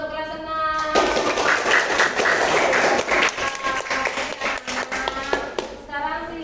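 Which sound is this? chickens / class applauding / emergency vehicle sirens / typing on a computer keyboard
class applauding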